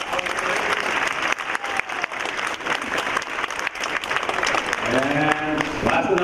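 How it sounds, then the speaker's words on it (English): Audience applause fills a cherry blossom queen program, steady dense clapping throughout with crowd noise, and a voice starts talking over it near the end. "So please, a big round of applause for her as well."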